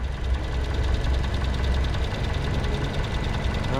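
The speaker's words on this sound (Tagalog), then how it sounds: "Tahimik na makina, no?" A quiet car engine idles in a parking lot after a jump start for a flat battery, a steady, even mid-pitched hum with faint regular knocking, continuous and moderately soft with no voices.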